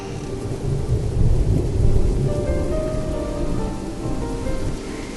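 Heavy rain pours steadily with a low rolling rumble of thunder through a thunderstorm, a loud continuous wash with no voices.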